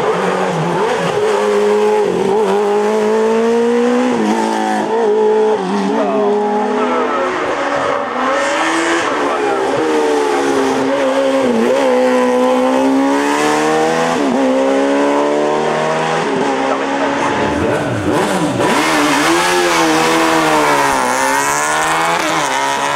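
A small Fiat 500 VRC race car fitted with a Suzuki motorcycle engine at the 2021 Turckheim-Trois Epis hill climb, its high-revving engine screaming loudly through repeated rising and falling gear changes, with a commentator talking over it.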